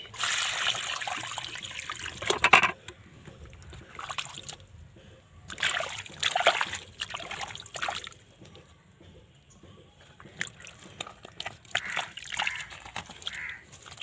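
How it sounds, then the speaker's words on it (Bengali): Water poured onto soil around a turmeric plant, trickling and sloshing in several bursts with quiet gaps, close by and soft, with no one talking. "জল দিয়ে দিই"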